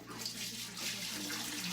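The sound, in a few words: broth being poured into a hot pot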